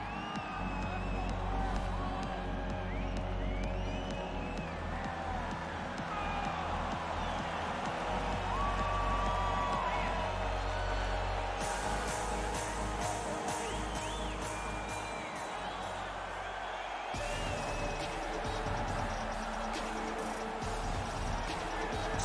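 A sold-out arena crowd in the UFC 4 video game roars and cheers steadily through a flyweight title fighter's walkout, loud and continuous, with music-like pulses beneath and a commentator talking over it.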